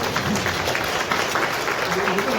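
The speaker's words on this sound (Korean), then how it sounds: "큰 박수 한번 주시죠" An audience at a manufacturing innovation open forum in Gumi applauds, a dense steady patter of many hands clapping briefly, mid-distance, over a room hum with a voice underneath.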